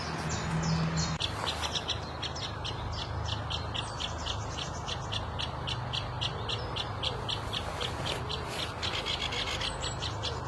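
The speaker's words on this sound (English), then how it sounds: "Bloody woodpecker." A woodpecker calling in Grangetown Cemetery: a long run of sharp, rapid, evenly spaced calls that carry over a soft outdoor hiss, with no talking.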